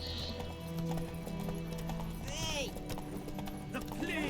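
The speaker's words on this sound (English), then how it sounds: "You see I'm galloping with my horse?" A horse gallops with quick, even clip-clop hoofbeats in The Witcher video game, with whinnies and snorts over a steady background of game music and ambience, and a voice speaks briefly.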